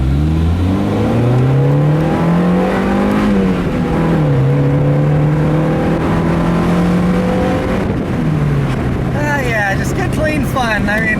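The engine of a 1997 Mazda MX-5 Miata revs hard toward redline, its droning pitch rising and holding loud and near inside the car as the car speeds up, with a voice speaking over it.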